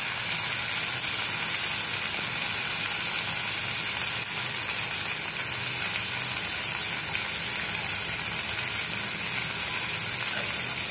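Onion and tomatoes frying in a pan for an aubergine and potato curry, a steady dense sizzle that holds at an even level throughout with no talk over it.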